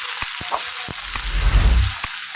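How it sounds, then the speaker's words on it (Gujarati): Diced potatoes tipped into hot oil with garlic, green chillies and dried fenugreek hit the pan with a loud, close sizzle that swells and settles, punctuated by a few sharp clicks and knocks of utensils. "હવે આપણે બટાકા જે આપણે સુધારી નાખ્યા છે તે નાખી દઈએ."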